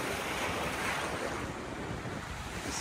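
Ocean surf at a beach in Panama City on the Florida panhandle, a continuous loud wash of breaking waves mixed with heavy wind buffeting the microphone, with no talk.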